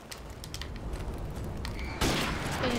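Video game airstrike and gunfire, a dense rumbling fusillade of distant blasts that swells into a louder, harsher burst of explosions near the end, without speech.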